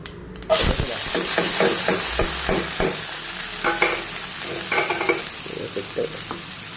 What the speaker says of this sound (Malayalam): കടുക് പൊട്ടുമ്പോൾ മേലേക്കും അടുപ്പിൻ്റെ അപ്പുറത്തേക്കും എല്ലാ സ്ഥലത്തേക്കും പൊട്ടിത്തെറിക്കും